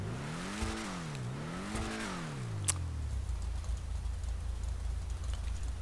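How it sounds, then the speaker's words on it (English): The Peyote Gasser car engine in GTA Online revs up and down twice in quick swells, then settles into a low, steady idle rumble; fairly quiet overall. "I think this sound is from the peyote gasser."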